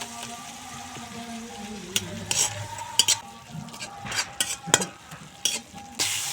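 A spoon stirs ground turmeric, chilli and cumin powder in hot oil in a pan for a dhaba-style egg and potato curry, with a steady low sizzle and scattered scraping clicks against the metal.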